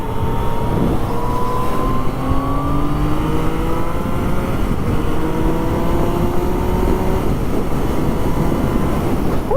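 A Yamaha FZ-09 motorcycle accelerates hard on a ride, its engine note climbing in loud rising sweeps that repeat as it shifts through gears, steady and close throughout with no talking.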